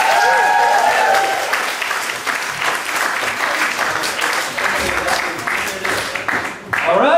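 A live audience at a comedy show in Belfast applauds a comedian with loud, sustained clapping and some cheering, thinning briefly near the end as a voice breaks through.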